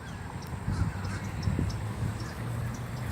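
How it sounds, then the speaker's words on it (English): Wild white ibis by a pond give several short, faint honking calls at moderate distance, scattered over a soft outdoor background. "The white ibis. I like to hear the way they honk."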